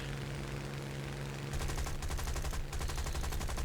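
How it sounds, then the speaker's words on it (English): An aircraft machine gun fires in War Thunder as a Yak-9 fighter flies past, rattling in a rapid, continuous burst over the steady drone of the plane's engine. "You can just hear that gun when he flew past there."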